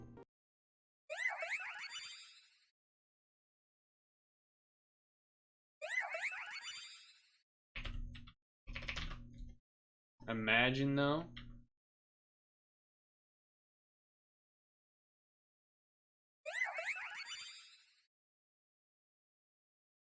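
Synthetic electronic cry of Carbink, a rock-and-fairy Pokémon, from a video game, repeating as separate chirpy beeping bursts with long gaps between them, plus a few harsher tonal calls in the middle; a speaker briefly talks once.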